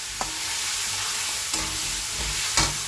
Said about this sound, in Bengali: আর দিয়ে দেবো এখন আমি গাঠি কচু আলুটা। এটা লাল লাল করে ভেজে নিই, মশলা দিয়ে কষিয়ে দিচ্ছি।